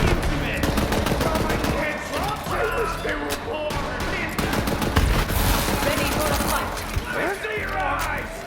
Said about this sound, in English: Shooting through walls.